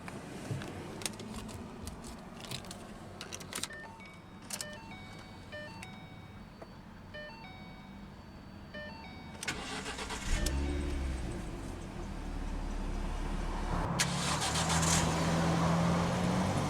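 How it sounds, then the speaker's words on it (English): A 2012 Ford Mustang V6 cranks and fires up, then settles into a steady low idle after a quiet stretch of faint chimes and clicks. "let's go and start the engine"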